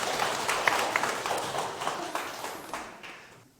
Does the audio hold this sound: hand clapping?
yes